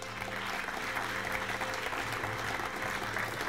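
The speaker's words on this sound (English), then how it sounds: "Please applaud Nick Dunstone" Sustained audience clapping at an award ceremony, even and moderately loud, continues without pause under a faint steady hum.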